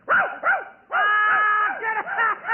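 A dog barks and yips in a radio comedy sketch, a few sharp, close barks followed by a long wavering whine, sounding like a person imitating the dog by voice.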